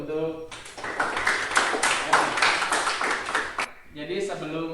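Classroom of students bursting into lively clapping for about three seconds, framed by a teacher's voice before and after.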